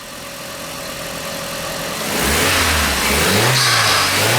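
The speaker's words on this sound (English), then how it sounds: "we'll do a start up and a drive" An Audi TT 225 1.8T turbo engine, fitted with an oversized turbo inlet pipe and cone filter, turns over and catches, then revs up with rising and falling pitch, loud and close, with no voices.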